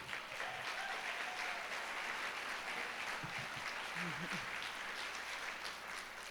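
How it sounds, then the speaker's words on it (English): Soft, distant applause from an audience at a tribute continues evenly throughout, a faint, diffuse patter with a low background rumble. "would you applaud for Jim Gilpatric?"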